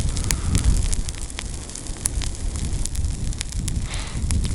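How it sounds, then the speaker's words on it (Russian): A campfire burns on snow, crackling and popping with sharp, irregular snaps over a dense, roaring rush of flame, loud and close throughout. "первоначально как порох загорится, а так будет он спокойно гореть"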